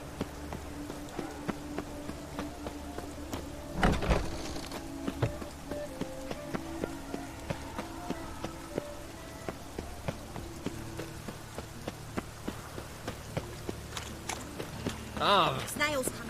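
Rain falls in The Witcher 3 video game, a steady patter dotted with sharp drop ticks and footsteps, with occasional voices over it.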